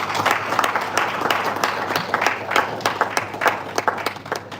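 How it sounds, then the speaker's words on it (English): Audience applause after a speaker's talk at a career event on airport work: a dense patter of claps at moderate level with sharper individual hand claps standing out, steady throughout with no talk. "Can we give him another round of applause?"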